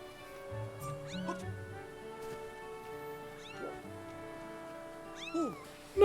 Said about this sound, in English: It's like someone made a koala meow.